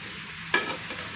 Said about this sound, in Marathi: ते आता आपण सर्व मिक्स करून घेऊयात